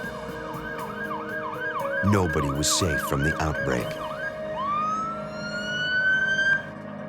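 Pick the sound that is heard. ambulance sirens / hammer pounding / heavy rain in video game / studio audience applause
ambulance sirens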